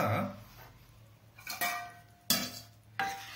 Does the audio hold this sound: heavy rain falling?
no